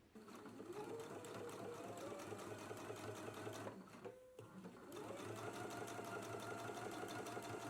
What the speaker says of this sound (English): So a 1/4 of an inch away from the edge, we can go ahead and do a top stitch.